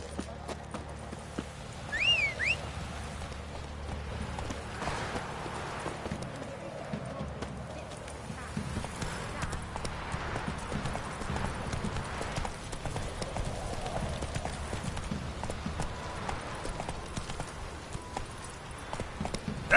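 Roach the horse clip-clops steadily at a walk in The Witcher 3, hooves faint and even beneath voices talking and a game soundscape, with a brief whinny near the start.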